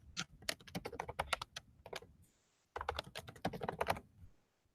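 Rapid clicking keystrokes on a computer keyboard while an email address is typed, close and crisp, in two bursts split by a short pause, with no talking.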